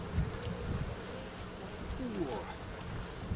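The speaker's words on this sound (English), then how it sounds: "I do see a whole lot of bees" Honey bees buzz in an open hive during a spring inspection, a dense, steady hum close by, with a few louder individual bees passing near and some quiet handling noise mixed in.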